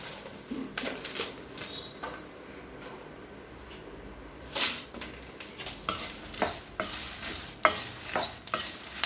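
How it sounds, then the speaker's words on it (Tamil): About 100 g of dry red chillies are roasted in a pan, with repeated scraping and rattling stir strokes that grow louder and more frequent toward the end, close up with no talking. "வரமிளகா வந்து ஒரு 100 கிராம் அளவுக்கு வறுக்கிறேன் நான்"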